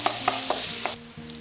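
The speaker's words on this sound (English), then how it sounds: "Fry the pork till it's no longer pink." Ground pork fries in a hot pan for Sichuan mapo tofu, a steady close sizzle broken by several sharp scraping knocks from a meat masher, with no voices.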